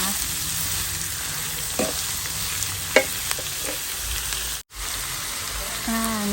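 Food is stir-fried in a pan, giving a steady loud sizzle with occasional spatula scrapes and taps, a brief dropout midway, and no talking.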